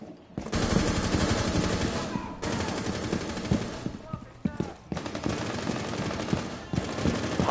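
Sustained automatic gunfire in a video game hostage mission, loud continuous bursts with brief pauses between volleys, voices faintly under the shooting.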